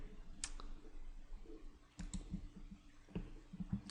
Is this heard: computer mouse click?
yes